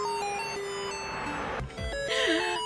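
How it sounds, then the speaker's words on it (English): Ice cream truck jingle playing a tinkly tune of bright sustained notes, moderately loud and close, with a low thump and a brief swooping note near the end and no speech. "ice cream truck"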